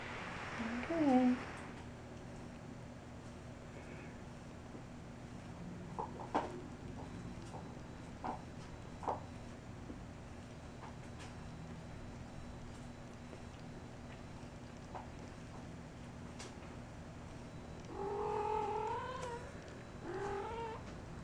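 A Persian mother cat carrying a catnip toy gives low, drawn-out calls at the start and again near the end, with quiet rustling and faint ticks in between, close and fairly soft.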